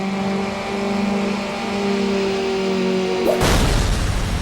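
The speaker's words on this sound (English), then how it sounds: "The sight of fast cars burning through the detailed streets, light reflecting in the puddles, is a visual treat." Street-racing cars in Need for Speed Underground, with a steady engine drone holding through most of the stretch before breaking into a louder burst of roaring noise near the end, loud and with no talk.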